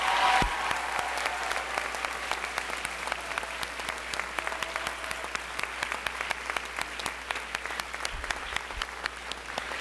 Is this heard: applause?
yes